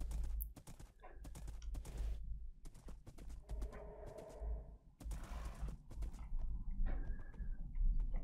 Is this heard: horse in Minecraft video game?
yes